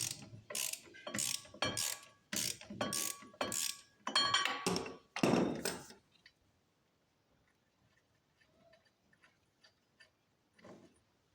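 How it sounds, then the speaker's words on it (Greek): Hand ratchet wrench working on a car wheel hub bearing bolt, a counter-hold wrench bracing the other side: several bursts of loud, close ratchet clicking for about six seconds, then faint scattered small clinks and taps. "Με την καστάνια μας και με μια κόντρα από την άλλη μεριά."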